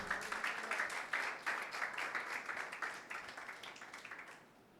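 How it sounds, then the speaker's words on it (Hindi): A church congregation claps steadily and enthusiastically for several seconds during a Sunday meeting, the applause fading out toward the end with no voices. "यीशु मसीह के लिए जोरदार तालियां बजाएं।"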